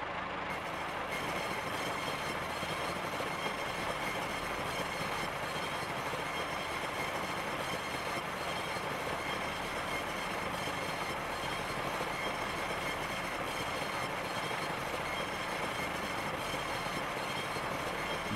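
Train running in Train Simulator on the Old Coast Line, a four-kilometre-long HST, with a steady, continuous rumble of wheels and rail noise, close and loud throughout with no talk.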